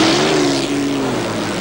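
Two-wheel drive race cars roar past during a contact-heavy race, one engine note sliding slightly downward over a broad, loud wash of noise.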